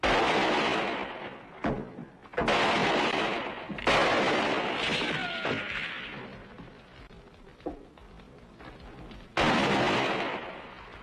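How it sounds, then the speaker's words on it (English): Heavy gunfire aimed at a wagon in an old western adventure: several loud, close sharp blasts with long ringing decays, spaced irregularly, with one last shot near the end. "Just fire toward the wagon when I go."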